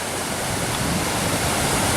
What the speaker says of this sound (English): So look at all that water coming down there.